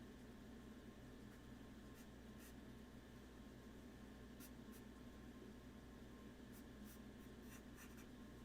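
A pencil darkens the lines of a doodle sketch on paper with steady, soft scratching strokes, close but faint, over a low continuous room hum.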